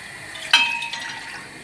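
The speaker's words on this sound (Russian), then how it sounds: "ставлю мисочку, выливаю сюда воду" A brief clink on a bowl, then a short splash of water being poured in, close and fairly soft, while making a quick pepper marinade.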